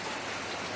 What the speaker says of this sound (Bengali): দেখেন বৃষ্টি পড়তেছে